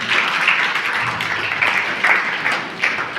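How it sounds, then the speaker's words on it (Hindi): An audience at a school New Year 2023 program applauds its principal with loud, steady clapping that fills the whole stretch without a break. "हमारे प्रधानाचार्य के लिए एक बार जोरदार तालियां हो जाएं।"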